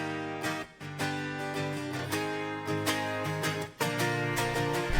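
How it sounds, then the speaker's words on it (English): Four layered strummed guitar takes, panned left and right, ride out the chords of an indie pop song, forming a dense, full, sustained wash with a brief dip partway through and no talking. "Really full with 4 guitar takes playing it."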